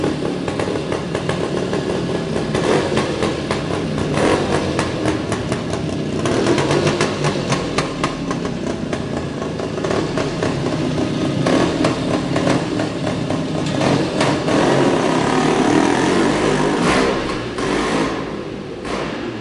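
A 1973 Yamaha RT3 360 Enduro two-stroke motorcycle engine runs steadily for the whole stretch, close and loud, with a buzzy, busy mechanical tone and small rises and dips in revs.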